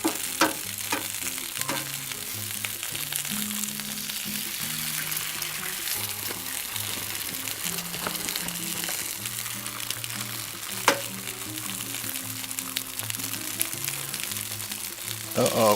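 Eggs fry on a Blackstone griddle with a steady, loud sizzle and crackle throughout, while light scraping and clinking from utensils come and go. Music plays in the background.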